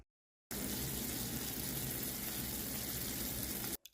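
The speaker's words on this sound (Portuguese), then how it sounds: "As bolhas nitidamente já estão estourando com uma certa dificuldade e o barulho também muda." Sugar syrup for strawberry candy apples boiling as it thickens, a dense continuous bubbling hiss that starts abruptly after a short silence and holds steady and close until it cuts off.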